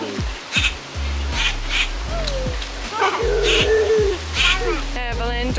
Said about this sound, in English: don't throw sticks at the pigeons